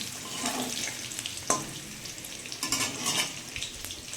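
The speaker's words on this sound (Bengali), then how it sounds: "এই যে ডিমের ঝোলের জন্য ডিম ভাজা করছি" Eggs frying in a pan for an egg curry give off a steady, close sizzle and hiss, broken by a few sharp clicks and clatters of a utensil against the pan, with no one talking.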